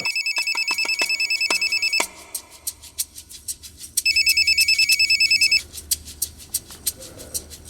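A telephone ringtone in a Hindi crime drama scene rings in repeated bursts of bright electronic trills, with sharp clicking pulses between and after the bursts, fairly loud and close with no talking.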